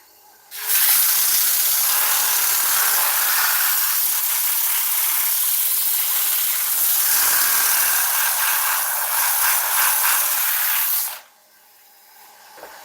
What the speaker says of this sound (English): some 80 grit sandpaper, and what I'd like to do is just sand the base of the bowl while it's spinning on this side